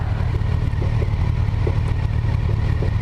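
A Kawasaki Versys 1000 LT SE motorcycle under way, its engine a steady mid-pitched drone with a low rumble and a faint clatter, close and fairly loud, with no talk.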